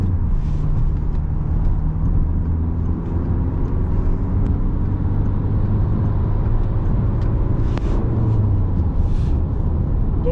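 Peugeot 308 1.5 HDi 130 diesel hatchback (2018) accelerating from about 50 km/h, a steady loud engine drone with rising harmonics and road rumble throughout, heard from inside the cabin.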